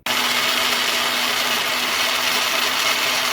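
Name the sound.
blender or food processor making paste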